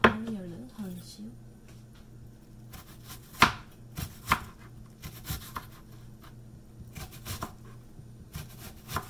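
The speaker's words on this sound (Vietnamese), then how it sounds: "Sạch nó đi, băm nó ra." Small kitchen knife mincing vegetables for a vegetarian dish, giving irregular clustered chops, some sharp and loud, against a low steady hum.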